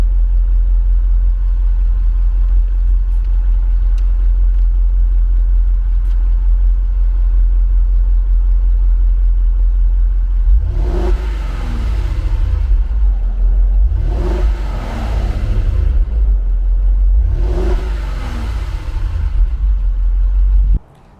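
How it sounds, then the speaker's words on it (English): A Jaguar XJR with stock exhaust idles with a low, steady rumble, then revs three times in a row, each rise carrying a faint supercharger whine before settling back, heard close from the rear. "You do hear a little bit of the supercharger whine."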